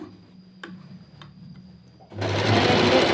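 Sewing machine stitching the lining of a churidhar: a quiet stretch with faint ticks, then the motor starts about two-thirds through and runs steadily and loudly to the end.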